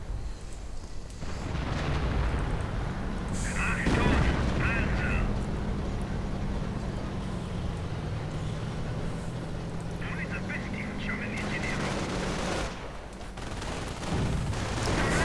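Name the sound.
artillery fire in a WWII strategy video game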